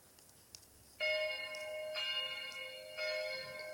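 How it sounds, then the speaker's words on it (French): A newly cast church bell, number nine of four new bells for a church, struck once and left ringing with bright, sustained harmonic tones, then struck again, each strike blooming loud and decaying slowly with no talk. "la cloche 9 est sortie. On l'a fait résonner."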